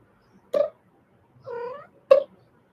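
A cat makes three short, chirpy, pigeon-like vocalizations, two brief squeaks framing a longer warbling cry, close and clear against near silence.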